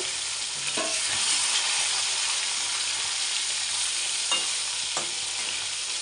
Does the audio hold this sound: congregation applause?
no